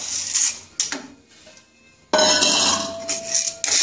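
Dry whole green kalai lentils tipped into a heated kadai on a gas stove, giving bursts of rattling, clinking grains against metal, with a louder pour midway and short scattered clatters around it.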